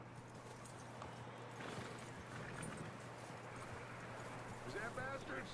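Horse hooves clip-clopping in Red Dead Redemption 2, a steady low rhythm of hoofbeats under outdoor ambience and talking, with a brief whinny-like sound near the end.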